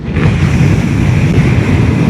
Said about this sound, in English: Just outside you can feel the wind buffeting